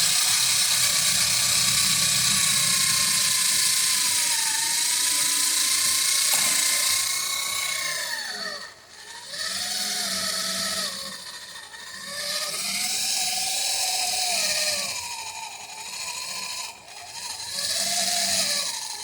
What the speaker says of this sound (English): I'm just applying more or less pressure to speed up or slow down the drill.